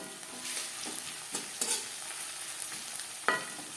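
Chopped onion frying in a pan for restaurant-style chana masala, a close, steady sizzle broken by several sharp scrapes and clacks of stirring, with no voices.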